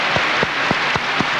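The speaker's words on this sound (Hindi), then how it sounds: "खूब जोर से ताली।" An audience at a gathering applauding loudly, a dense steady wash of clapping with a few louder rhythmic beats, filling the space without talk.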